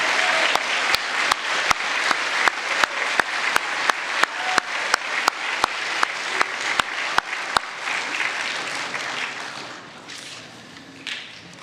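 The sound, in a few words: audience applause for A honor roll students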